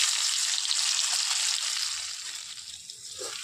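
Potatoes dropped into hot oil in a pan crackle with a loud, bright sizzle that settles slightly softer toward the end, heard up close with no talking.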